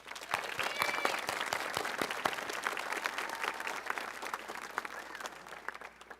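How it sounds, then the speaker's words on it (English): Applause from an audience at a high school honors assembly, dense and steady clapping filling the whole stretch at moderate loudness with no talk. "So please give Denise another round of applause."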